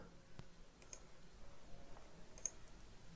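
Faint computer mouse clicks on text style tools in a word processor, a few light, scattered clicks spread across quiet, low background hiss.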